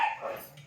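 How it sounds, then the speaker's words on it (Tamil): Dogs bark outside at night, a single short sharp bark that fades quickly. "வெளியில் சத்தம் கேட்குன்னு கேட்குறீங்களா கண்டிப்பாக அது நாய்கள்"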